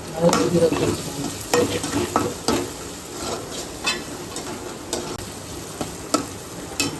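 Ground pepper and cumin being stirred and fried in a pan for quail gravy, a steady close sizzle broken by repeated scraping strokes of the spoon.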